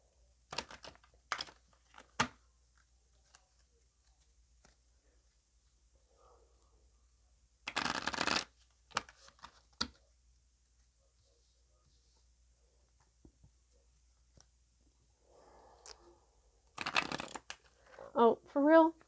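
Gaia oracle card deck being shuffled in short bursts of crisp, riffling card sounds, a few seconds each, separated by quiet pauses, with a voice speaking near the end.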